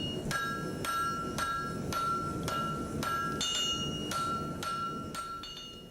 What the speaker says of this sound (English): When it's ready, the forging begins